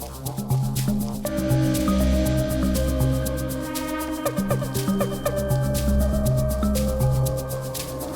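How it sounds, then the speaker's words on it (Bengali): Pakoras frying in hot oil, a continuous dense crackle and bubbling sizzle running steadily throughout at close range, with a low background hum underneath. "তো দেখো আমার এই যে পেড়াকিগুলো এক এক করে দিয়ে এখন এই যে ভেজে নিচ্ছি"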